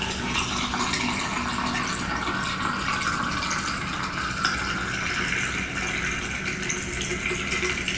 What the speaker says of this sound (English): Pull that out, and we're going to pour this in here.